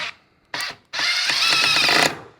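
A DeWalt DCF870 hydraulic impact driver drives a screw into pine: a short burst, then a brief second one, then a steady whirring run of about a second that ends with faint impacting at the finish, close and loud.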